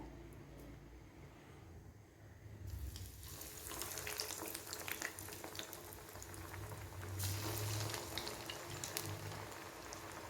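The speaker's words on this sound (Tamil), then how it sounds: "இப்போ நம்ம ரெடி பண்ணி வச்சுருந்த பிரெட் பால்ஸ் ஒவ்வொன்றா போட்டு ஃப்ரை பண்ணி எடுத்துக்குவோம்" Bread balls dropped one by one into hot oil, a soft bubbling fry that swells after a few seconds into a steady crackling sizzle, close but fairly quiet.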